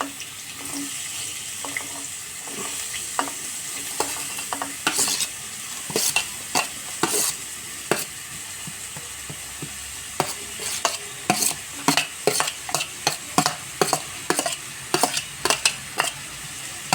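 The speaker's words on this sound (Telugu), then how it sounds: "ఇప్పుడైతే నేను ఆనియన్స్ వేసుకుంటున్నా. ఆనియన్స్ అండ్ పచ్చిమిర్చి" Onions and green chillies fry in hot oil with a steady sizzle, while a spoon stirs and scrapes the pan in irregular knocks that grow more frequent toward the end.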